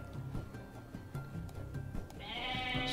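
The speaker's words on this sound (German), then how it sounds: "So viele Schafe." Sheep in the video game Age of Mythology bleat faintly among soft clicks and game ambience, and a brighter tonal game sound rises near the end.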